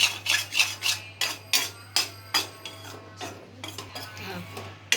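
Flour is scraped and stirred in a pan while being roasted slowly for bhendi fry, a close rhythmic rasping of a spoon against metal, about a dozen regular strokes.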